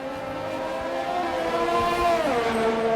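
An F1 car zooming by in the F1 2020 video game at the Canadian Grand Prix, a loud sustained engine whine that holds steady and then drops sharply in pitch as the car passes.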